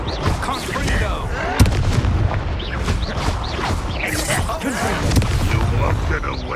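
Confringo blasting spells exploding during a wizard video game battle, a dense run of booming impacts and crackling bursts throughout, mixed with voices and game effects.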